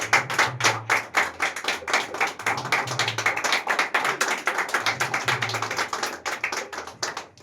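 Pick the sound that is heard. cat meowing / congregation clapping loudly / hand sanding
congregation clapping loudly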